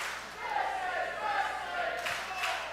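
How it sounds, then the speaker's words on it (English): Crowd noise at a live wrestling show, a steady murmur of fans rising into scattered shouts and cheers, heard from a distance at moderate level with a commentator's voice faintly mixed in. "you can hear the crowd"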